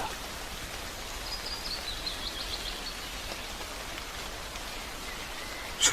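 Rain falls steadily on a forest around a small cabin in Finland, a soft, even wash of pattering drops with a faint high bird-like call partway through and no voices.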